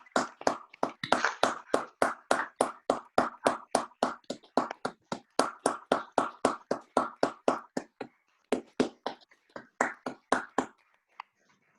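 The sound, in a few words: colleagues applauding in thanks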